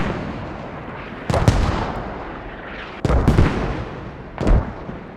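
Mortar rounds land in a Squad match, three heavy booming impacts with rumbling tails spaced a couple of seconds apart over a constant low background roar.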